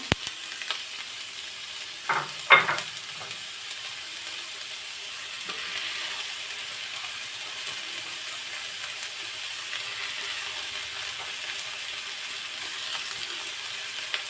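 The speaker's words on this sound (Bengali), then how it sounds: "রসুন আর জিরাটা একটু ভালো মতো ভাজি করে নিতে হবে তা এখন আমি দিয়ে দিচ্ছি মাছগুলা" Fish pieces dropped into a pan of garlic and cumin frying in oil, with a couple of sharp clatters early on, then a steady, soft sizzle carrying on alone.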